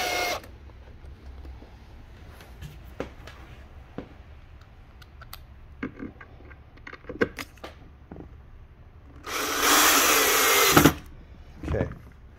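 A power drill drives self-tapping screws into a sewing table while a Consew CSM3001 brushless servo motor is installed; scattered taps and clicks lead to one loud, steady whir lasting about two seconds, then a short burst.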